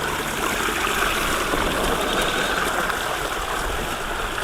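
Creek water flowing steadily outdoors at a homestead, a continuous broadband rush and trickle that stays even and close throughout, with no voices.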